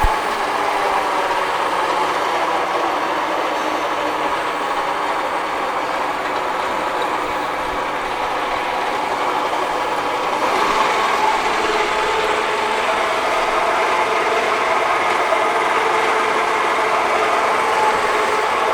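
A Summit 16X60B gap bed engine lathe runs steadily after a speed change, giving a continuous mechanical whir and drone that stays constant and fairly loud throughout, with no talking.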